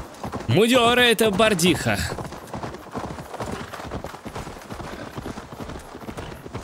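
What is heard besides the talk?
horse hooves galloping in Assassin's Creed Valhalla video game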